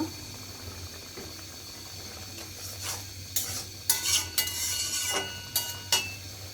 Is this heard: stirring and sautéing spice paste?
yes